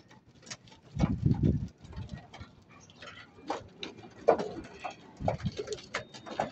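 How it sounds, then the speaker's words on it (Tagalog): Racing pigeons shuffle and flutter as they enter their loft after feeding, giving soft coos, light pattering feet and brief wing bursts close by, quiet and irregular, with no talking. "Binigyan na natin ng patuka at nagpasukan na sila mga kaibon."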